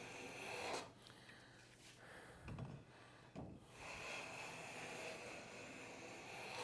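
Hand plane with a lightly set iron shaving thin feathery curls from the center of a wooden board, a soft continuous hiss of rasping strokes with brief pauses between passes, fairly quiet and close.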